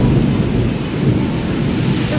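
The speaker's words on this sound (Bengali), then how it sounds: "ম্যাঘ সেজে এত দ্রুত বৃষ্টি নামা" A sudden afternoon downpour with thunder fills the scene, a loud steady roar of heavy rain and deep rumbling that continues without a break and with no voices.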